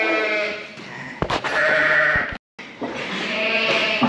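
Sheep and lambs bleat repeatedly in a lambing pen, close and loud, several overlapping calls with a brief silent gap midway.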